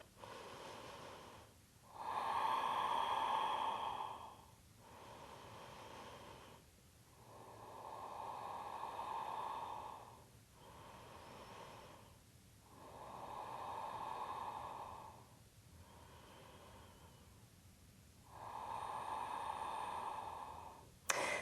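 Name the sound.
slow deep breathing during yoga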